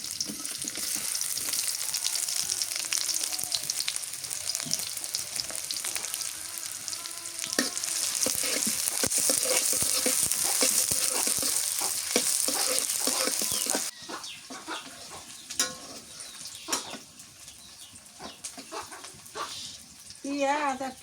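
Chopped onions frying in oil in a pan make a loud, continuous sizzle that eases off about two-thirds through, with scattered clinks and a voice speaking over it.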